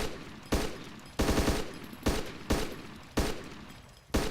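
Gunfire in the survival game DayZ, a series of loud, sharp shots spaced roughly half a second to a second apart, some in quick double or triple bursts, each decaying into a short echo.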